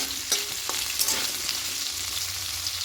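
Potato pieces fry in hot oil in a pan until lightly browned, giving a steady soft sizzle with occasional stirring scrapes, close and fairly quiet.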